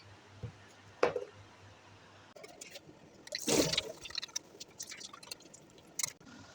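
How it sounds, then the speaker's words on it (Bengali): Water splashes and trickles as a face is washed at a sink, in a few short bursts with quiet pauses between them, heard close and without talk. "আমার মুখ ধুতে হবে চলেন মুখটা ধুয়ে আসি"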